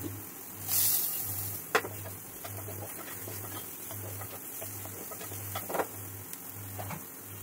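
Onions fry in hot oil with a steady crackling sizzle, broken by a few sharper clinks and scrapes from the pan, over a faint pulsing hum nearby.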